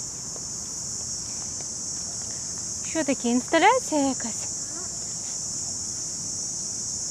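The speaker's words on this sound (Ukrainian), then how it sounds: "Чуєш, Аліса, цикади як стрикочуть." Cicadas near a river in Vietnam keep up a steady, shrill, high drone through the whole stretch, while someone speaks briefly midway.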